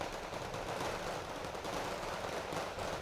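Sustained machine-gun fire in a Wargame Red Dragon battle as fusiliers fight VDV troops, a dense rattling fusillade heard faintly at a distance without pause.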